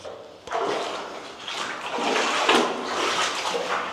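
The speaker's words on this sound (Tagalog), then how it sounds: "parang naririnig ko na yung tubig. Agos yung tubig." Water flowing inside the hidden cave of Emilio Aguinaldo, a continuous rushing wash that swells and stays steady for several seconds, close and fairly loud with no talking.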